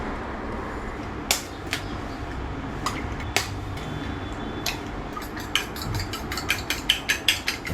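A whisk beats eggs for scrambled eggs, first striking the container in a few scattered metallic clinks, then settling into a quick, regular run of bright tapping clicks near the end.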